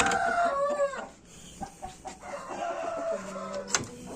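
A rooster of a fighting breed gives a loud close crow at the start, followed by softer clucking and scattered farmyard noises from the fowl nearby.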